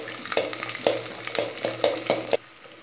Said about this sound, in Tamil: ஆனியன் நல்லா ஃப்ரை ஆயிடுச்சு.